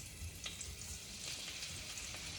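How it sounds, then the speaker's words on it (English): Shallots frying in oil in a pan make a faint, continuous crackling hiss, with small pops scattered through it and no talking. "You can hear the oil sizzling."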